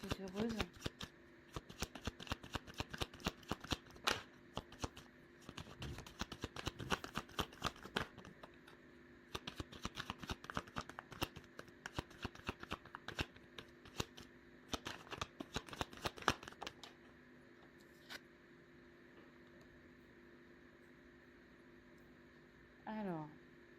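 Tarot cards are shuffled in a long, steady stream of fast riffling taps, then the shuffling stops and cards are drawn in quieter handling near the end. A voice talks softly underneath throughout.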